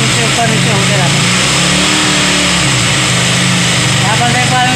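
A KTM Duke 200 BS6 motorcycle with an idle fault runs loud and close, its revs wavering up and down unevenly, while someone talks over the engine.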